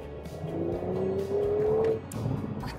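An Audi RS4 in dynamic mode drives on a slippery surface with a loud exhaust. The engine note climbs and holds for a couple of seconds, then drops back, with road and wind noise steady underneath.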